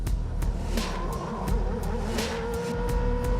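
Formula 1 race car with a 900 hp V8 engine pushing a car of just over 600 kg, a steady loud engine roar with sharp repeated bursts like gear changes or passing revs throughout.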